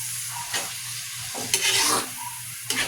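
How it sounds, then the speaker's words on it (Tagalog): Tomatoes sauté in a hot pan and get stirred well until fully cooked, a steady soft sizzle broken by a few louder scraping stirs, close and without talk. "Pakagisa lang natin to ng maigi, yung tipong lutong-luto na yung kamatis."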